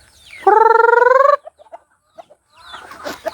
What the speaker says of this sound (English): I got chicks running around inside here.